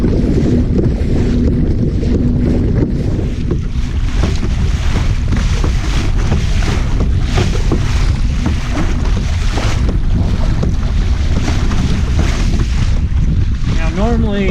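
Hobie PA 14 kayak pushed along by its Mirage pedal drive on open water, heavy wind buffeting the microphone over rushing water and splashing, loud and continuous throughout.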